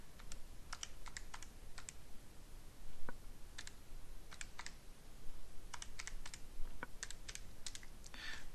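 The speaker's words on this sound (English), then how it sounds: "when you type that into your calculator" Crisp plastic key presses on a calculator, irregular clicks in short bursts, fairly close and moderately loud over a low steady room hiss, with no talking.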